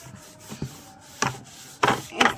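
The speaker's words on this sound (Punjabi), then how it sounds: "ਆਪਾਂ ਇਹੀ ਸਕਰਬਰ ਵਾਪਸ ਲੈ ਲੈਣਾਗਾ ਤੇ ਇਹਦੇ ਨਾਲ ਆਪਾਂ ਹਲਕਾ ਹਲਕਾ ਜਿਹਾ ਬਸ ਇਹਨੂੰ ਮਸਲ ਲਾਂਗੇ" A scrubber lightly rubbing a plastic bucket, a few short close scrapes in separate bursts, the last two longer and louder, with no one talking.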